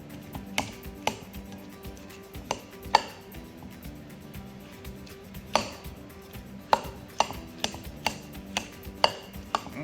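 A knife chops beets on a cutting board in quick, uneven strikes, each a sharp close knock, some clustered and others spaced apart, with no talking.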